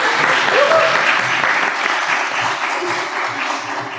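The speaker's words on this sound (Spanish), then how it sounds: "así que yo le daría un aplauso a ustedes" Audience applause fills the room at the close of a school-violence talk, a steady sustained clapping that stays fairly loud throughout with a faint voice beneath it.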